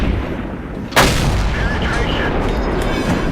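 A tank cannon in a video game fires once, a single loud, sharp blast with a booming low rumble that lingers and fades. Steady engine and battle noise run underneath before and after the shot.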